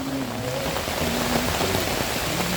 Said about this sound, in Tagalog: Pero grabe lakas din naman ang ulan.